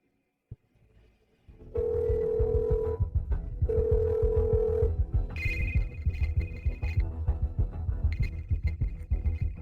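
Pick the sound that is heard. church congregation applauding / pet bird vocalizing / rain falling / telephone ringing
telephone ringing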